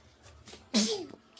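A single short, sharp sneeze bursts out close by during children's toy train play, brief and loud against quiet room tone.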